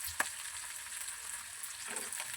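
Food frying in a pan, a soft steady sizzle with faint stirring scrapes and one brief tap near the start, quiet and without talk.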